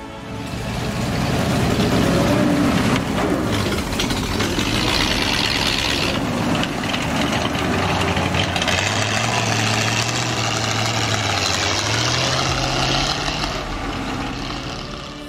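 Engine of a WWII Bren gun carrier in a tabletop wargame sound effect, a steady loud idling rumble that holds for the whole stretch, with a low droning tone rising partway through, alone without voices.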